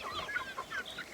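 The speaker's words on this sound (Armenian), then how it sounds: "ճուտիկների ու հավերի մոտ" Hens and chicks cluck and peep nearby in a yard, a quick string of soft, high calls overlapping at low volume.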